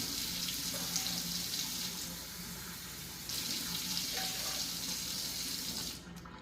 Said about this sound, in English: First, we're going to turn on the water until it's hot.